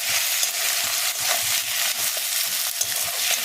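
Masala paste for jackfruit curry being sautéed in a pan, a loud, continuous frying sizzle with faint scraping stirs underneath, close up.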